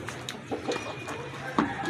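A rooster and chickens cluck in short bursts nearby, a few scattered clucks over background farmyard noise.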